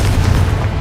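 A Confringo fire spell detonates in Hogwarts Legacy as a loud, booming blast that stays dense and low-heavy for under a second, with no voices over it.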